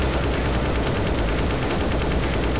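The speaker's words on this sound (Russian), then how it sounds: "С калаша будем гасить" Loud, continuous automatic fire from a Kalashnikov rifle in Garry's Mod, a dense unbroken burst of rapid shots filling the whole stretch.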